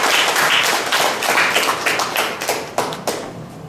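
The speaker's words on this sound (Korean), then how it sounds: "뜨거운 박수로 맞아주십시오" Audience applause welcoming a lecturer, Kim Young-soo, an expert on Sima Qian, to the stage: dense, steady clapping from a crowd that continues throughout and tapers slightly toward the end.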